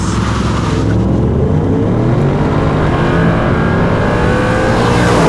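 A Ford Mustang Dark Horse V8 engine roars loudly and continuously, revving up with rising pitch toward 7,500 RPM, close and dominant throughout.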